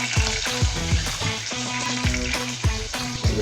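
Cubes of crocodile meat sear in butter in a hot pan, a steady loud sizzle with sharp crackles and occasional clinks of a utensil stirring through the short stretch, no voices.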